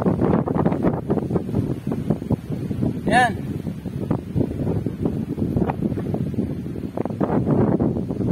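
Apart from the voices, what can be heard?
strong wind at a lighthouse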